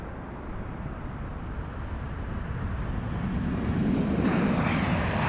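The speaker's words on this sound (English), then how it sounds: "Oh, listen to that reverse thrust." An airliner landing at London Heathrow roars under reverse thrust, a broad, steady rumble that builds and grows louder toward the end, heard from a distance outdoors.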